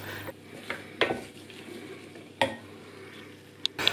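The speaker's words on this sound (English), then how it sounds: "we melt the butter in a small pan and when it's all melty melty we stir in the flour and get that all combined" A spoon clinks and scrapes in a small pan as flour is stirred into melted butter. The taps are sharp and irregular, with a soft sizzle beneath them, and the sound is quiet and close.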